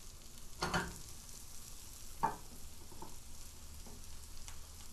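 Mushrooms and green onion sizzle softly in a pan while being stirred, with a couple of spatula scrapes against the pan over a steady, fairly quiet frying hiss.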